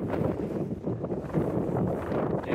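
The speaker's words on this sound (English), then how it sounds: "See how it's blowing in the wind a bit." Wind gusts across a mountain campsite, buffeting tent fabric with a continuous rushing, flapping roar and rough microphone wind noise throughout.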